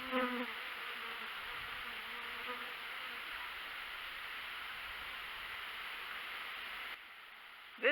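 Honeybees from an opened hive buzz in a continuous close drone, with individual bees zipping past near the start; the hum stays steady throughout, then briefly quiets before a short knock at the end.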